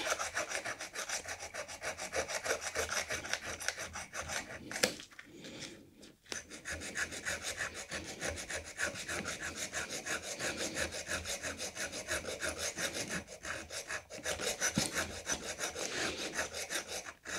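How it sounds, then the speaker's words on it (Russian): The edge of a Kershaw Helitac knife is dragged repeatedly against a nail to dull it, producing close, continuous rhythmic scraping and rasping strokes with a couple of short pauses, no speech. "Теперь у нас затупление ножа с помощью гвоздя."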